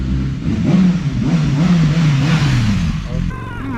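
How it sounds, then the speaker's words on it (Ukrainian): A 2018 Ford Fusion bought from a salvage auction turns over and revs, its mid-range engine note rising and falling loudly and close, with a voice briefly at the end. "а машина заводиться"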